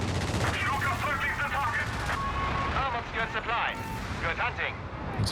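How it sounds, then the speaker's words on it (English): Machine gun fire and other gunfire in Company of Heroes 3 rattles steadily through a busy battle mix, heard under continuous talk. "Machine gun."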